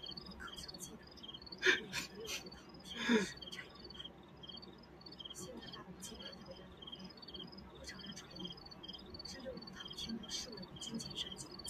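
Crickets chirp steadily throughout a night scene in a Chinese costume TV drama, a thin, continuous high trill, with a couple of louder, brief bursts near the beginning.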